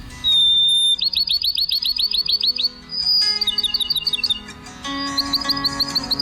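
Bachman's sparrow song: a sweet, clear whistle followed by fast, rhythmic trills, repeated in several bright phrases, close and loud against a quiet background.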